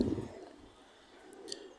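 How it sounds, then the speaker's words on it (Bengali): A pair of Vivers high-flying pigeons coo softly in a loft, a low throaty burble at the start that fades, with a few faint chirps later; quiet and fairly close. "এই কবুতর জোড়াটা দেখেন ভিভার্স"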